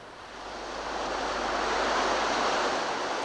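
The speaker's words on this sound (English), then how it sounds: "There are spectacular stretches of white water" Whitewater river rapids roar in a dense, continuous rushing wash that rises within the first second and then holds steady, loud and close with no voices.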